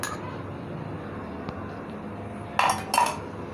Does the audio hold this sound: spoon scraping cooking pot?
yes